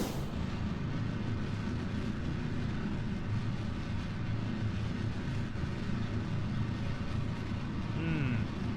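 A rocket engine in Kerbal Space Program throttles up into a steady, loud, dense roar that holds unbroken throughout, with a faint rising tone near the end.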